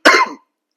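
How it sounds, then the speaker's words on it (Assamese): A single sharp adult cough, loud and close, bursting briefly and then cutting off into silence, with no talking around it. "বেছিকে আচলতে কাহটো আহি গৈছিলে"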